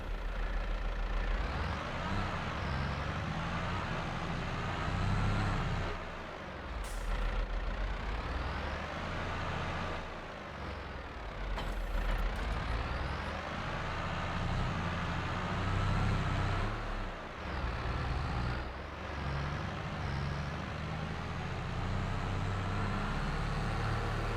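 In Farming Simulator 22, a tractor hauling a baler runs its engine in a steady, loud drone that rises and falls slightly as it revs over time, with no voices.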